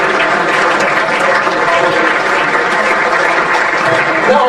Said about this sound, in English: Keep clapping because they are still coming through the door again.